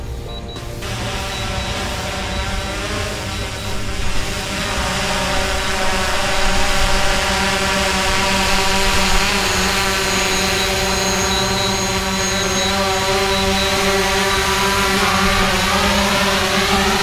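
A DJI Mavic Pro drone flying on return to home, its propellers giving a loud, steady, close whine with layered harmonic tones that shift gently in pitch throughout.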